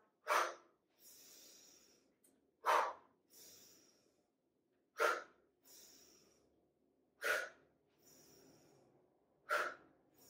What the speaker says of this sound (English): So you're just like letting it out and then inhaling naturally. Helps to exhale out the mouth.